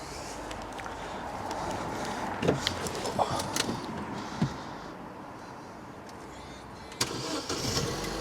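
A Volkswagen Golf GTD diesel starts on the push button and settles into a steady nearby idle with a slight rattle, with brief clicks and knocks over the engine noise.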